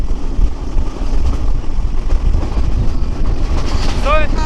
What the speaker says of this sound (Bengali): সীমান্ত দিয়ে কিন্তু আমাদের চলে যাচ্ছে সিলাট এক্সপ্রেস ট্রেন